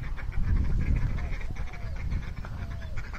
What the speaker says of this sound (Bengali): হাঁসগুলো দেখেন চিলেচিলি করতেছে